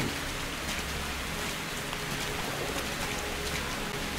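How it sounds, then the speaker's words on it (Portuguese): Steady rain pours down in a taiga area in the video game Metro Exodus, a dense even hiss of drops on surfaces, moderately quiet and continuous with no talking. "Começou a chover."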